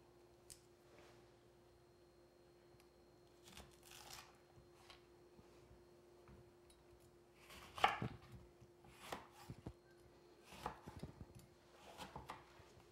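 A knife splits serrano or jalapeno peppers in two on a cutting board, with a few soft, scattered cuts and taps, sparse early and clustering in the second half, over a quiet steady hum.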